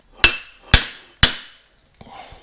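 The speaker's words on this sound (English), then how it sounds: "So I'm just going to grab a soft face hammer, push down the inside here, which should then push it out from the Boss on the outside." A soft face hammer strikes a steering column boss three times in an even rhythm, each a sharp close knock that rings briefly, followed by a fainter rattle.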